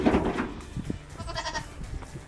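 Goat bleats from livestock being handled and loaded onto a truck for market, several short cries close by over rustling and handling noise, no talk.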